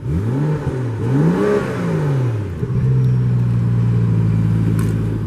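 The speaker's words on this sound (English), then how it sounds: "And you can hear that beautiful exhaust note." A 2016 BMW M235i xDrive engine revs up and down in several swelling pulls, then holds a deep, loud exhaust drone at steady idle, close by.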